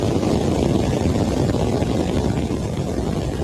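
SpaceX Starship rocket engines ignite at launch, a dense, roaring broadband rumble that stays loud and steady throughout with no breaks.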